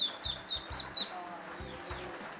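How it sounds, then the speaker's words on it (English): A duck calls for its penned mate with a few short, high squeaky calls in quick succession, close by, amid low rumbling handling noise and some nearby talk. "You've got a little resident duckies. His little mate's in the pen there behind you. He's calling out for his mate."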